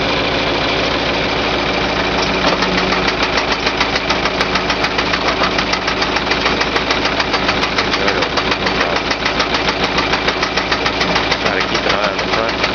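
A winch steadily hauls a mobile greenhouse along by its cable, a continuous loud motor drone with a rapid knocking rhythm running throughout, close and unbroken.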